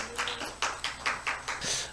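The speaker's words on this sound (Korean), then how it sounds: "우리 박수로 격려하십시다." Congregation in a church applauding to welcome an elder to the pulpit, a fairly faint, uneven patter of clapping with a few sharper bursts across two seconds.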